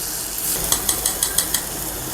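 A spatula stirs frying masala with salt and turmeric in a pan for half egg curry: steady sizzle under a quick run of six or seven rhythmic metallic scrapes and clicks.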